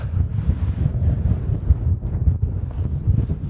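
Strong wind blows outside a tent in snowy cold, a steady rough roar that buffets the microphone for the whole stretch, with no voices.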